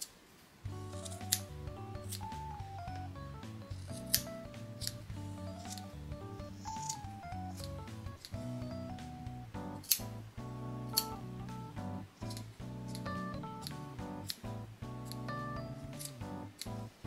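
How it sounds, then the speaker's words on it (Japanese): Scissors snip away the fuzzy cut yarn loops on free-stitching needle embroidery, shaping a smooth round part, with a series of small, light, crisp cuts mixed into steady background music. "表面のボサボサをハサミで切って整えます。"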